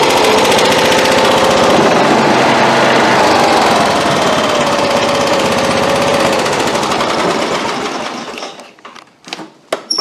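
A 1990 Cub Cadet 1002 lawn tractor engine runs loud and steady with a rough, busy chatter for about eight seconds, then cuts out, leaving a few scattered knocks and clicks.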